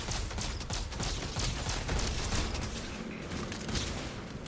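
Gunfire in Starfield, a rapid run of sharp shots firing in quick succession, moderately loud and fairly close, with no talking over it.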